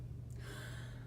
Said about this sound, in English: A huff cough looks like this.